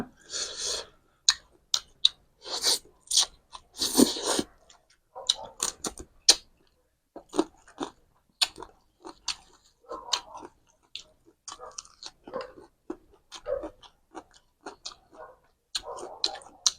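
Close-up crunching and smacking of someone eating spicy cooked shrimp papaya salad with the shrimp shells left on, irregular crisp bites and chews heard alone.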